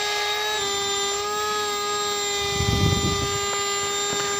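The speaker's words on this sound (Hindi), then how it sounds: "अगर आगे आप उसे पुश करेंगे तो वैक्यूम क्लीनर का काम करेगा" A two-in-one car tyre inflator and vacuum cleaner runs with a steady, loud, high motor whine throughout. A rougher rush of suction swells near the end, with no talking.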